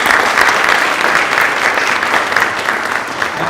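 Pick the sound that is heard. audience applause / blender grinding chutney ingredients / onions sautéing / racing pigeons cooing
audience applause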